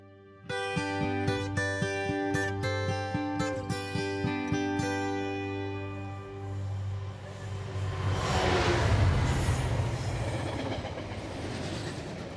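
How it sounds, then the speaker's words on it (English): A train at Long Buckby railway station in Northamptonshire, heard from the platform: a strong rhythmic clickety-clack of wheels over rail joints as carriages pass close by, then a louder rushing roar as it continues. "I am currently waiting on the train platform at Long Buckby in Northamptonshire"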